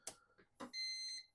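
A soldering station heating up gives a short, bright electronic beep after a few small clicks and taps, the tone held steady for about half a second, close and clear.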